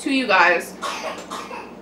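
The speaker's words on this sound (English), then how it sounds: "He was coughing a little bit." A young boy coughs several times up close, a short burst of rough, wet coughs followed by a couple of weaker ones.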